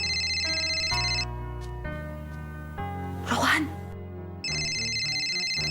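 A telephone rings on an outgoing call, a loud electronic tone that cuts off and returns after a pause. A voice speaks briefly between the rings.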